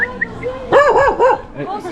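A small dog at a busy market in Phongsali, a remote hill town, gives a quick run of three or four close barks in the middle, with faint background voices around it.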